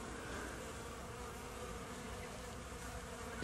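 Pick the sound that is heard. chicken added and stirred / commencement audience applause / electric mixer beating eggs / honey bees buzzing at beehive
honey bees buzzing at beehive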